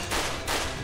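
Dense gunfire in the video game Judgment roars continuously and loudly through the short span, with rapid overlapping shots and no talk.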